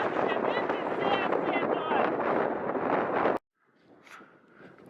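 Strong wind roars against the microphone while cycling in southern Tajikistan, a loud steady rush that cuts off abruptly, leaving softer rustling and gusts.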